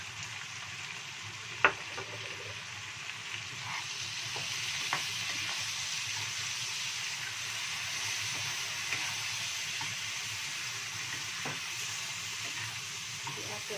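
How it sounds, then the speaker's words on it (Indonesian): Shrimp sizzle and crackle steadily in a frying pan with tomato sauce and oyster sauce as a spatula stirs them, giving a few sharp scraping clicks over the constant quiet hiss. "Diaduk-aduk."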